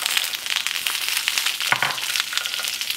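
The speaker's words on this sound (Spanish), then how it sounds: "ya tengo aquí mi comal calentando con un poco de aceite. Voy a agregar jitomate" Tomato hits hot oil on a heated comal with a dense, loud crackling sizzle and a brief thump, close and continuous for a few seconds.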